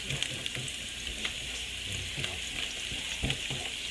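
Paella sizzles and fries steadily in a hot pan, with a constant crackling hiss and occasional small pops, fairly quiet and close.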